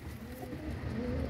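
Andhra tournament pigeons coo softly in a low continuous murmur, close by and quiet with faint background noise.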